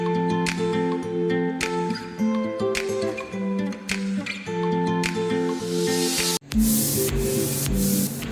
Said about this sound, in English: Spray paint in the brackets of the shelf.